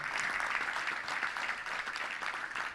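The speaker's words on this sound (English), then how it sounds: "Let's give a round of applause to all those great sponsors." Steady applause from a touchdown club luncheon crowd honoring sponsors, a continuous, even wash of many hands clapping throughout the short stretch.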